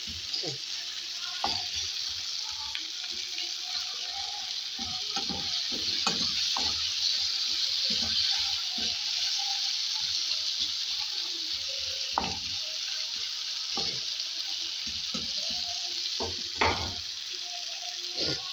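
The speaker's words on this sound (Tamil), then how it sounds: "இந்த பாவக்காவும் கொஞ்சம் வேகட்டும் இப்படியே வேகட்டும்" Bitter gourd simmering in a tamarind curry in a pan, giving a continuous soft sizzle and bubbling with scattered pops and small clinks throughout.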